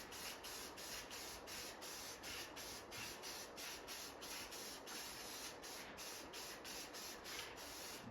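White Krylon spray paint is sprayed onto arcade cabinet brackets in short, rhythmic hissing bursts, close and fairly quiet, with no talk.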